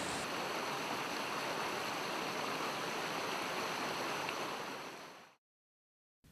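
Water pours steadily over a weir and spreads onto a floodplain in rural Australia. The rush is broad, close and continuous, then cuts off abruptly near the end.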